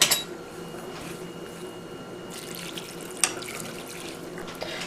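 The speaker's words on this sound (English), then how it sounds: "Now add some water." Water runs from a tap into a pan of salted carrots and beans for a poriyal side dish, a steady splashing stream lasting several seconds with a brief clatter of the pan midway.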